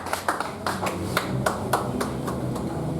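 A church congregation applauding during a French-language sermon, a short patter of claps with rhythmic accents, close and moderately loud, with no voices.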